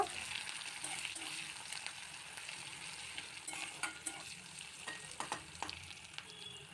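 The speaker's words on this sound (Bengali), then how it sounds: "এবার তেলের মধ্যে 5 ফোড়ন, তেজপাতা ফোড়নে দিয়ে পেঁয়াজ কুচি দিয়ে দেবো, দিয়ে একটু নাড়িয়ে ব্রাউন করে ভেজে নেব" Chopped onions frying in oil with panch phoron and bay leaf for ghugni, a quiet steady sizzle broken by a run of sharper scraping stirs toward the end, with no voices.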